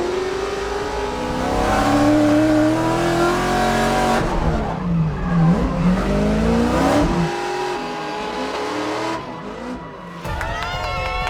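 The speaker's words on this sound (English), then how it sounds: "Luis Lanz has left the line, and that makes him your unofficial 2023 Formula Drift US Drift Circuit champion" A Formula Drift car at a 2023 US drift competition revs hard and swings through rising and falling engine pitches with tire squeal, loud and close; a voice talks over parts of it and a whistling sound closes.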